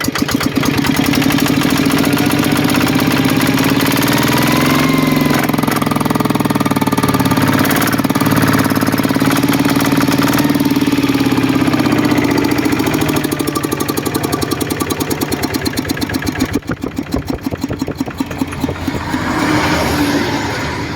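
Kubota RT140 diesel engine, an original factory unit, idling steadily at close range with a loud, even, knocking chug that runs continuously and alone, without speech.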